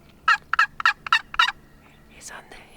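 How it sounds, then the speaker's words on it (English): A wild turkey in an Oregon forest gobbles in a rapid rattling burst of five or six loud, close notes, followed by softer faint calls. "That's a nice big turkey right there."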